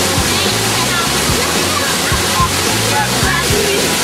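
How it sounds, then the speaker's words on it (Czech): Waterfalls at Skradinski buk in Krka National Park roar as a steady, loud, dense rush of falling water, close by, with voices faintly mixed underneath. "Přímo pod vodopádama."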